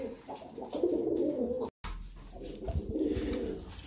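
Pet pigeons cooing in their outdoor enclosure, soft repeated coos close by, broken by a short gap, with faint background murmur.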